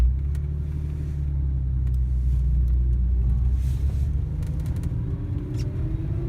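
A BMW with a drivetrain rattle rumbles steadily while driving, a low, loud engine and road drone with faint scattered clicks and knocks above it, and no voices.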